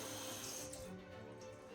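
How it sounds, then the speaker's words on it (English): Water running steadily from a tap, a brief continuous splashing flow, close and fairly quiet. "Add some water here to the tips."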